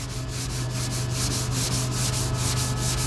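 Sandpaper is worked by hand across car bodywork with a sanding block in rapid, even back-and-forth strokes, a continuous close rasping with a steady rhythm and no voices.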